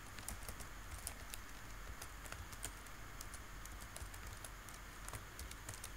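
Soft, quick keystrokes on a computer keyboard as code is entered, faint irregular clicks over a low steady background hum.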